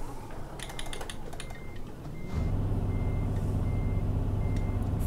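A truck in the Scania Truck Driving Simulator game reverses, its high repeated reversing beeps sounding over a low engine drone that swells and grows louder partway through; there is no talking.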